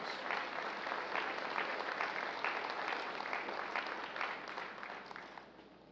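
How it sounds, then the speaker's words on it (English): Applause rises from the crowd at an Armed Forces of the Philippines change of command ceremony, a sustained, distant-sounding roar of clapping that gradually fades near the end. "A well-deserved round of applause for the outgoing Chief of Staff, General Andres Castor Centino."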